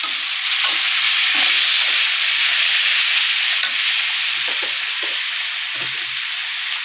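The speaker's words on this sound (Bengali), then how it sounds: "তেজপাতা দু একটা ছিঁড়ে দিয়ে দিয়েছি। এগুলো একটু লাল লাল ভাজা হলে" Torn bay leaves fry in hot oil for pui shak chorchori, a steady, loud, close sizzle with faint crackles and occasional soft scrapes of stirring.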